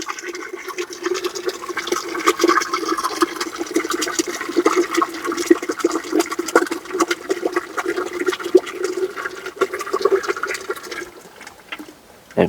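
Organic waste slurry pours into the inlet of a biogas digester, a steady close gush and slosh of liquid running for several seconds with a brief tail at the end.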